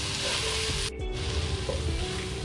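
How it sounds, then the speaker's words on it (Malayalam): Onions sizzle loudly in a hot pan as they are stirred toward brown, a dense steady crackle broken by a short dip and a few spatula scrapes, with no speech. "ഇതൊരു ബ്രൗൺ കളർ ആവുന്ന വരെ നമ്മൾ ഇളക്കിക്കൊണ്ടിരിക്കണം കേട്ടോ."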